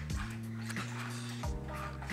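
A pet dog at home whimpers and bays in long, drawn-out tonal cries, close and fairly loud, with no talking.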